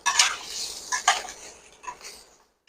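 Soybean chunks for chowmein drop into a pan with a few light clattering rattles and scrapes, fairly faint and close, coming in short bursts.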